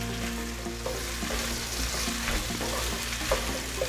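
Shrimp sizzle in a hot pan for sweet and sour shrimp roast, a steady close crackling fry with the scrape and clatter of stirring running through it.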